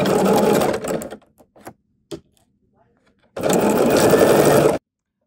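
A sewing machine stitches a quarter-inch seam on a reversible table runner in two steady, buzzing runs, separated by quiet fabric handling and a short gap.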